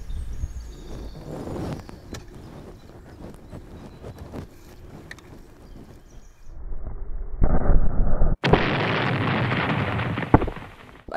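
A rumbling blast followed by a sharp, loud explosion from a test of materials' blast resistance, its roar lingering for a few seconds before cutting off.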